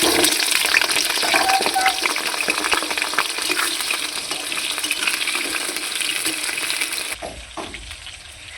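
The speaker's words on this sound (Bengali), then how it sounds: "সর্ষের তেল দিয়ে দেবো, আলুগুলোকে ভেজে নেব।" Potatoes fry in hot mustard oil in a wok, a loud, dense, continuous sizzle with crackling and occasional stirring, dropping away abruptly near the end.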